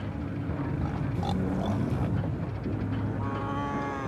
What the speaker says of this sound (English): keep the flow of traffic better over the sound of the mooing